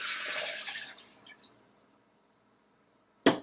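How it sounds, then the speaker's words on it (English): Almond milk pours into a blender in a brief hissing, splashing stream that tapers to a few drips and quiet, before a single solid thump near the end. "Then I will put in the almond milk."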